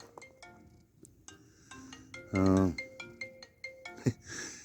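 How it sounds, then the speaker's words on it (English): A mobile phone ringtone at a lakeside fishing spot, a short melodic electronic tune of repeated tones, faint and somewhat distant, with a louder buzzing burst midway and light background noise. "His phone's going off"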